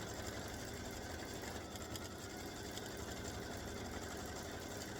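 A quilting sewing machine stitches an edge-to-edge design in a steady, continuous mechanical whir that holds loud and even from start to finish, with no pauses and no voices.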